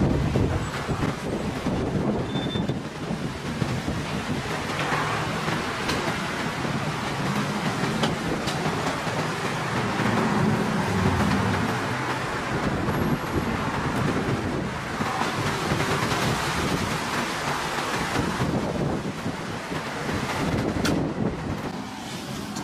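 Heavy wind buffets the microphone with a constant rumbling roar, loud and unbroken throughout, masking any other sounds.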